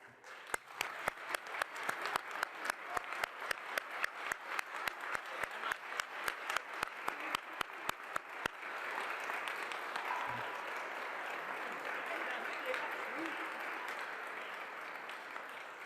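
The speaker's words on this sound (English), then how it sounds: "I think we need a round of applause for you." An audience at a Canadian astronaut announcement claps in a sharp, rhythmic beat at first, then dissolves into a continuous wash of general applause that carries on steadily.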